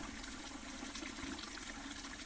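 Water poured over a chicken in a pot for rotisserie pho broth, a steady continuous trickling pour running throughout without pause, fairly quiet and close, with no talking.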